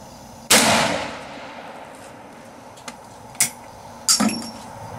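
Gunshots ring out from a CBC 12 shotgun at a yellow steel target, a loud first blast at the start followed by a couple of sharper, lighter cracks or clangs later on, with open outdoor echo trailing each.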